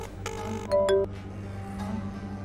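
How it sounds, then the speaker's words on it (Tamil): A phone rings with an incoming call, giving a short melodic ringtone of a few bright tones close up over a low background hum of a television drama scene. "அந்த சிவா தான் ஃபோன் பண்றான்."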